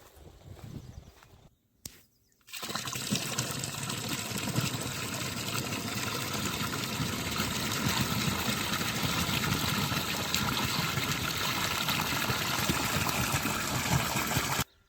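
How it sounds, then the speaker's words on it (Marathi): Pumped irrigation water pours steadily into a ratoon sugarcane plot, a continuous loud rushing flow with a faint motor hum, starting after a brief quieter moment and running unbroken to the end. "तर आता आपण मोटर चालू केले आणि पाणी सुद्धा आता प्लॉटमध्ये चाललंय"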